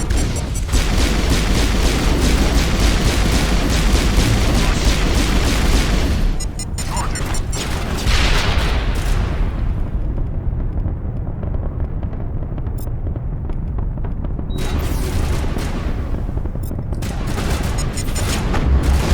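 Sustained loud gunfire and booming blasts from combat in the game Mass Effect 1, dense for several seconds, then thinner bursts and another heavy stretch of firing near the end.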